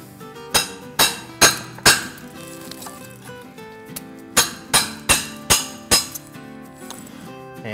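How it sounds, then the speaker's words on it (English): Hammer striking a chisel to chip stray concrete from an ICF wall interconnect, sharp metallic blows in two bursts of four and five evenly spaced strikes, close and loud. "I can take a simple tool like this and be able to chip this out with a hammer."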